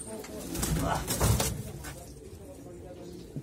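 Soft, low pigeon coos sound a few times close by amid general background noise and shuffling.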